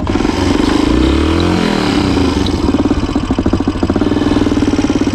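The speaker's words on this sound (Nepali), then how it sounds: "फेरि स्टार्ट भयो" A motorcycle engine starts and revs hard on a hilly road in Kavre, Nepal, its loud close rumble rising and falling with throttle blips before settling into an uneven, pulsing run.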